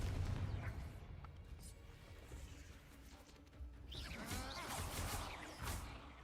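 Confringo spell blast in Hogwarts Legacy, a burst of booming explosive impacts with crackling, whooshing magical effects amid continuous combat noise, fairly quiet overall.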